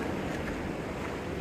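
Water rushing steadily near a waterfall by Easedale Tarn in the Lake District, a broad continuous hiss that fills the moment close and loud, with wind buffeting the microphone.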